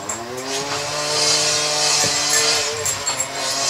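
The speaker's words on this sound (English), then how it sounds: "blade on the weed whacker, cutting down some of the big stuff" A weed whacker fitted with a cutting blade tears through heavy brush at a hunt camp, its engine droning steadily close by with slight rises and dips in pitch over a few seconds.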